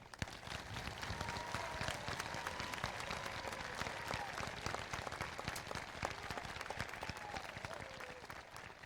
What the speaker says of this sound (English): Let's give Dallas Steiner a round of applause for his commitment to serve our nation.